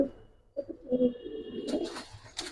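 Pigeons coo in a loft of Giribaz and colored breeds, a few soft, low throaty calls close by, with brief rustling in between and no talking.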